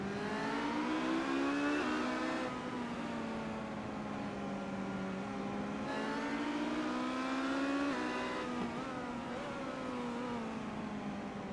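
Race car engines at the start of an iRacing sim race, a loud continuous engine whine climbing in pitch through repeated gear shifts, with no talk over it.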